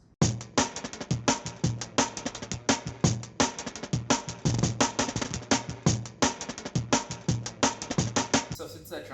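Dense, fast layered drum break with fills, the core of a song mixing hip-hop, post rock, drum and bass and hyperpop: a steady, driving stream of punchy hits running loud and continuous, with a brief bright swell near the end.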